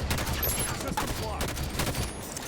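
Sustained gunfire from the Halo 5: Guardians video game, a dense stream of rapid shots and blasts that runs without pause across the whole stretch, with game effects layered on top.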